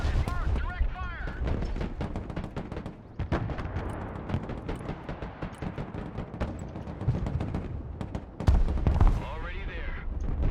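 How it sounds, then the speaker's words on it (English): Heavy booms and crackling gunfire as mobile artillery fires in the game Broken Arrow, repeated loud blasts mixed with radio-style voice callouts throughout. "Mobile artillery standing by. Target marked. Direct fire."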